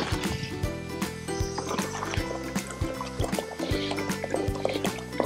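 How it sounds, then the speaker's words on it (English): Water is poured into a pot of Himalayan ibex broth for a dowdo soup. Gurgling and splashing liquid sounds repeat in short bursts at moderate loudness, with no voices. "You're gonna need a little more water in here."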